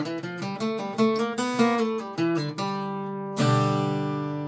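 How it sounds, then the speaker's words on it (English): A slow bluegrass G-run lick picked on a vintage Gibson L-00 acoustic guitar, single notes stepping down clearly before a final strummed chord rings out and decays, close and alone with no talking. "It's like a bluegrass run"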